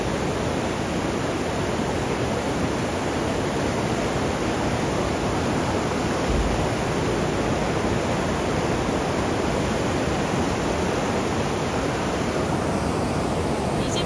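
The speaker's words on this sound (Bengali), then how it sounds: "পার্বতী রিভারটাও কতটা খরস্রোতা হয়ে গেছে দেখো" The fast-flowing Parvati river rushes nearby, a loud, steady broadband roar of churning water with no break throughout.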